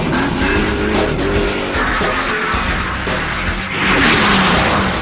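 A Zenvo supercar and a 5-liter, 300 horsepower V8 luxury car race past, loud roaring engines rising with tire noise and a swelling surge of sound near the end.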